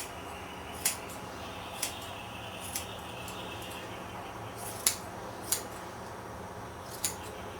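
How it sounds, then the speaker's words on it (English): Scissors clip the fur of a dog's beard during grooming, giving sharp, isolated snips spaced about a second apart over a quiet background. "I'll go ahead and clip off with the scissors"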